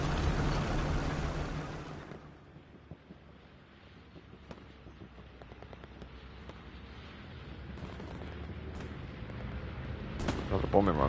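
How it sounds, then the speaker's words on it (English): Bombing run explosions in the Hell Let Loose war game on PS5: a loud, broad blast roars for about two seconds, then eases into a low rumbling battlefield wash that swells again near the end. "Another bombing run coming in."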